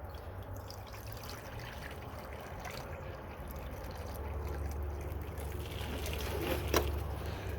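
Water pours steadily into a farm animal's trough or bucket during winter chores, a continuous close trickling wash that grows slightly louder toward the end, with no talking.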